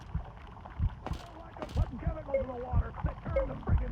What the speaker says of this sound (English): It's a heartbeat.